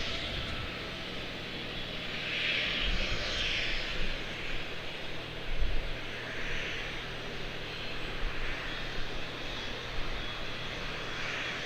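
An airplane coming in to land on the right runway at Charlotte-Douglas International Airport, a distant, sustained engine roar that swells slightly and then holds steady, heard alone outdoors without talking.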